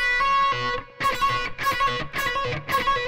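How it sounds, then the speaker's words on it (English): Fast double-picked trill on a distorted electric guitar: rapid repeated notes in bursts with brief gaps, loud and close, with no talking. "it sounds kind of different when you actually apply the double picking"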